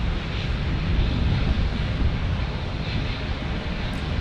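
A KLM Boeing 787 airliner takes off at San Diego airport, a steady, loud, broadband jet roar with rumbling low end that holds throughout, buffeted by wind, no talking.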